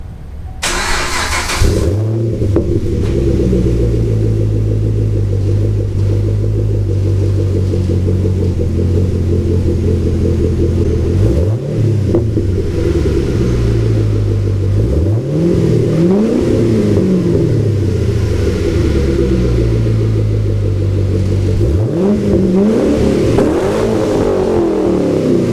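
2010 Camaro 2SS engine starting and revving through a new exhaust with 5-inch outlet tips, a loud, deep rumbling idle broken by several sharp throttle blips that rise and fall, close up with no talk.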